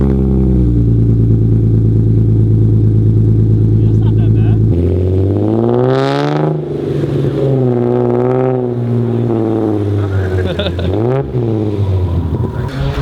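A Nissan 370Z with a loud Tomei exhaust rumbles at a steady idle, then revs up and down several times in loud, close, throaty bursts.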